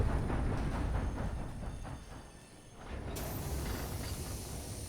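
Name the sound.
train moving in a video game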